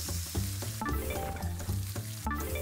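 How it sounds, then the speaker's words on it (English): Steaks sizzle steadily in a pan in the cooking game Innchanted, a loud, continuous frying hiss with a faint rhythmic pulse beneath it and no voices. "Cooking steaks."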